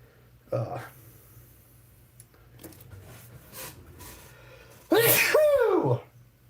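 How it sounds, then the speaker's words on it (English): A sneeze bursts out near the start, followed later by a loud, drawn-out sneeze with a vocal squeal, quiet breathing in between. "Sneezing like a macho man."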